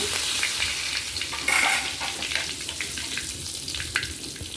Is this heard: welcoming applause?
no